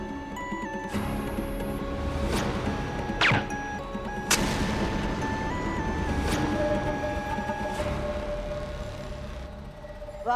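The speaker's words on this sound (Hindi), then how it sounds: "ये पटाखा किसने फोड़ा?" A firecracker bursts in a courtyard in a TV drama scene, heard as several sharp, loud cracks spaced a second or two apart over sustained musical tones.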